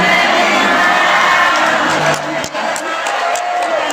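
A large audience after an Indonesian religious sermon claps and cheers in a loud, dense wash of applause and whoops, fading slightly toward the end.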